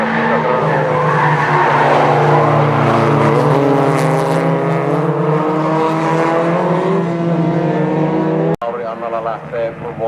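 Junior race cars, one a Volkswagen, run a dirt-track event in Oulu, with loud, sustained engine howl and tire noise that builds and then cuts sharply near the end, under constant commentator talk.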